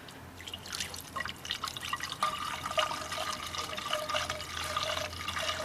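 Water trickling and dripping as it is poured into the cooling system of a 2007 Ford Taurus with an overheating problem, a faint irregular splashing close by against a low engine hum.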